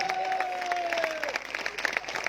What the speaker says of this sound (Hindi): आप सबकी भरपूर तालियों से।